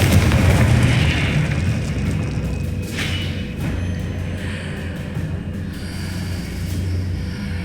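A fiery Confringo blast spell goes off in Hogwarts Legacy, a deep rumbling boom at the start that fades into a low, sustained roar with faint crackles, loud and close with no voices.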